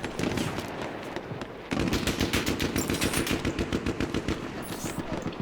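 Rapid automatic gunfire from the video game Battlefield 1, set near Suez, rattles out in a dense stream of close, loud shots, broken briefly before a faster burst resumes, with no speech.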